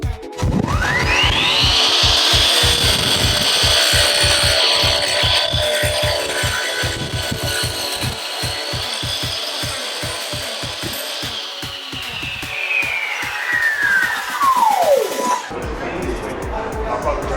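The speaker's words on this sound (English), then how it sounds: "Another tool I'm liking is this heavy duty chop saw from Makita." Heavy duty Makita XGT battery chop saw spinning up, slicing through wood and winding down, a loud whining cut over repeated knocking, with crowd noise and chatter from a busy tool fair around it.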